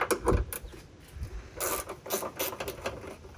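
A 10mm ratchet wrench loosens hood bolts on a Jeep JK, giving quiet, close clicking bursts of the pawl in short rhythmic runs with small metallic taps between them.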